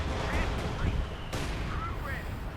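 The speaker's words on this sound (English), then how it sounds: "But there goes silencing the anti-tanker there with heavy artillery fire there." Heavy artillery fire in the Company of Heroes 2 strategy game brings dull booms and rumbling battle noise under steady commentary.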